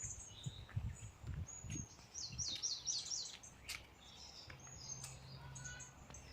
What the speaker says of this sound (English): So I'm going to listen to the birds.